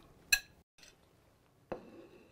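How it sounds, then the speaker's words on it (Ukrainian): Boiled chicken meat set onto a plate in a home kitchen, heard as two short, close clinks of dishware separated by a quiet pause. "викладаю зараз м'ясо в тарілку"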